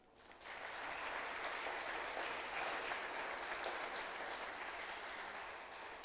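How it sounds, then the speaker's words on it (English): Applause from an audience at a library foundation author presentation and reception in Alexandria, honoring the military: a steady, dense wash of many hands clapping that swells in quickly and holds for several seconds at moderate distance. "Let's make sure we give our military a hearty round of applause."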